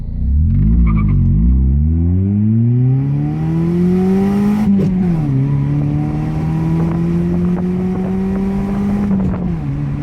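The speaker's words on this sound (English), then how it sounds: "Let's go to the straight part of the range and try and time 0 to 60." A Honda Prelude accelerates hard from a standstill on a straight, its engine note rising steadily through the gears with a brief dip at a shift, loud and close with wind noise.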